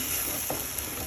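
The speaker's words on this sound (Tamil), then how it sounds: "நல்லா வதக்கிட்டே இருங்க." Masala for paneer butter masala gravy sautéing in a pan, a steady close sizzle with a couple of faint stirring clicks, brief and continuous.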